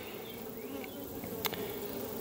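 Honeybees buzzing in a steady, close, dense hum around an opened beehive during a hive inspection, with no talking.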